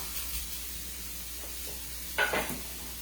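Steak hisses in a hot skillet as a soft continuous sizzle, with a brief louder burst of crackling frying partway through.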